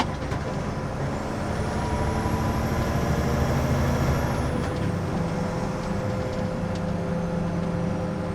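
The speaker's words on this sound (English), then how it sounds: "Watch when I kick the throttle down, she drops a gear." A snow plow truck's engine holds a steady heavy drone, with a rising whine that swells and then cuts off sharply as the throttle is floored and the transmission drops a gear, loud and close, with no talking.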